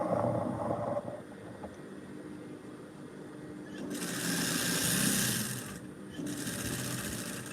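A sewing machine runs a straight line of stitching in bursts, its motor whirring close and loud, pausing briefly between runs with no talk.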